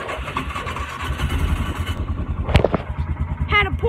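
A John Deere 10 small tractor engine cranks and catches, settling into a steady mid-pitched running chug, with a brief sharp clatter partway through and a few tonal squeaks near the end; loud and close.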